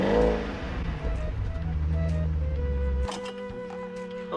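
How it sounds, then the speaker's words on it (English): A BMW car engine revs up with a deep rising roar, then cuts back to a lower steady idle with some whine, heard close by with no speech. "give it a rev"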